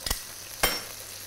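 A fillet frying in a pan, a faint steady sizzle with two soft stirring or turning clicks, close and quiet with no talking.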